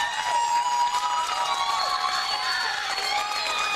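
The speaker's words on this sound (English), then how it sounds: "Chappelle bowlers clapping for their opponents. Celebration ensues." Bowlers and spectators at a girls' state bowling championship final cheer, shout and clap in a steady, lively burst of crowd celebration, with high excited voices throughout.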